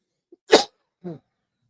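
A single sharp cough close to the microphone, followed by a short throaty voiced sound, in otherwise silent surroundings.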